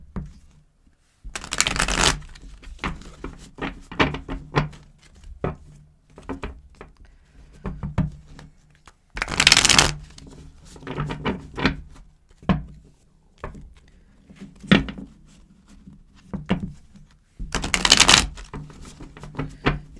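Stiff playing cards shuffled by hand during a tarot reading, with several loud riffling bursts separated by quieter stretches of card handling, snapping and tapping close to the mic, no talk.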